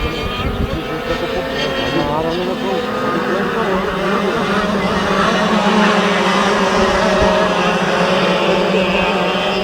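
A small KF kart engine with a 20 mm carburetor runs steadily with a buzzing, harmonic whine, revving slightly, while people talk briefly nearby at a karting race.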